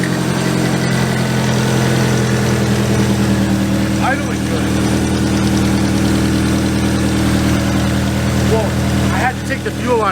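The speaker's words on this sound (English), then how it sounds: "Dude, it's idling good." A car engine idles loudly and close by, a steady low rumble with even mechanical pulsing, while people talk briefly over it.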